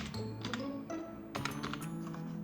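Someone types HTML code on a computer keyboard, producing quiet, quick clusters of key clicks in an irregular rhythm. The keystrokes sound close but faint, with no speech.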